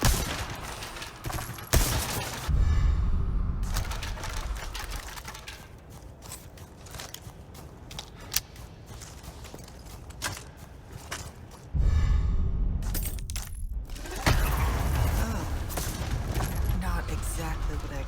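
Rifle gunfire in Resident Evil 4 Remake, a loud sharp burst at the start and renewed loud firing bursts later, set over ongoing game sounds with mechanical clicks between shots.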